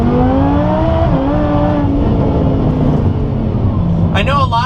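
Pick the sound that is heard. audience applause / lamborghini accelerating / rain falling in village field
lamborghini accelerating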